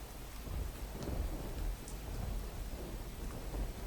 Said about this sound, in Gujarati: કડોદરા, ચલથાણ, બગુમરામાં વહેલી સવારથી જ વરસાદ વરસ્યો છે